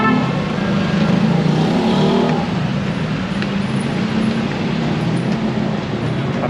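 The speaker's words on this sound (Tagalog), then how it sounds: "EDSA napaka-traffic." Heavy traffic on EDSA in Metro Manila, a loud continuous roar of passing vehicles with rumbling engines and rolling wheel noise, close by and sustained without pause.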